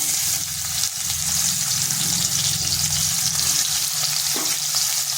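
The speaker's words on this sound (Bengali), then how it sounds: "আলুগুলোকে হালকা একটু ভেজে নেব।" Potato pieces frying in white cooking oil in a kadai give a steady, even sizzle and crackle that holds at a constant level throughout, with no talking.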